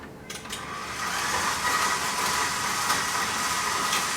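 An electric mixer whirs steadily as it creams butter, sugar and almond meal for linzer cookie dough, starting after a few brief knocks and then holding a constant, close, moderately loud hiss.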